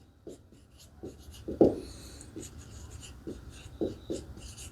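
Pen or marker writing a physics equation, a series of soft scratchy strokes and taps in short irregular bursts, close and faint.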